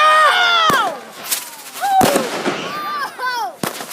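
A firework cake bursts in a rapid series of crackling explosions with sharp reports and whistling, bending tails, loud and close, while excited voices talk and react around it.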